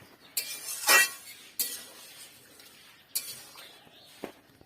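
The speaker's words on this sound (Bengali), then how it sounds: "সব দিয়ে দিলাম, দিয়ে একটু নাড়াচাড়া করে দিলাম।" A spoon stirs fried meat pakoras through a pan, giving a few loud scraping, clinking strokes with quieter pauses between them, close by and with no voices.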